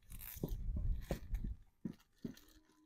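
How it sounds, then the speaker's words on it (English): A plastic zip tie is pulled tight around a bag on a blackberry vine outdoors, making close, faint crunching and ratcheting rustles in a handful of short bursts. "Zip tie this bag right onto this vine."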